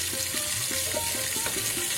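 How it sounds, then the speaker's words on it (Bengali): Fish frying in mustard oil makes a steady sizzle with quick rhythmic spatters and crackles, close and moderately loud. "আমি সর্ষের তেলে ভাজবো।"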